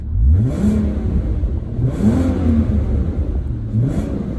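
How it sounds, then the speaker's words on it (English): A 2005 Audi TT Quattro with the 3.2 VR6 engine revs repeatedly while parked, three rising throttle blips swelling and falling back to a steady idle, the exhaust note close and loud with no talking. "Let's fire it up and see if we can get a little sound of the exhaust note."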